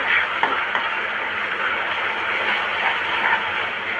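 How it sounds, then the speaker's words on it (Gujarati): Turmeric-and-salt-coated mango pieces sautéing in melted jaggery for Gujarati vagharelo chhundo give a steady, close hiss with a few soft stirring clicks, and no one speaks. "પછી જે આપણે હળદર અને મીઠાવાળી કેરી છે એને આપણે એમાં થોડીક વાર સાંતળી લેવાની છે."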